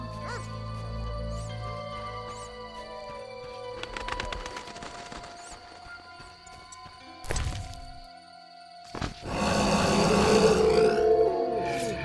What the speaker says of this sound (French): Mais les chiens, j'aime pas les chiens.